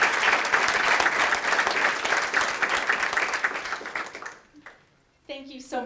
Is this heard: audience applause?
yes